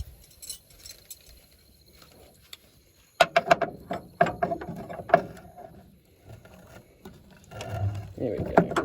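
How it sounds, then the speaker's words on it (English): Sharp ratchet clicks in short uneven bursts as a wrench works a top nut on a Land Rover, starting after a quiet opening and followed by fainter mechanical handling near the end. "Probably would be a good idea if I pulled this nut off the top here."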